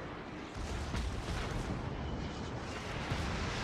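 Naval shells and heavy gunfire boom continuously in World of Warships, a dense, loud rumble of artillery blasts and impacts filling the scene without pause.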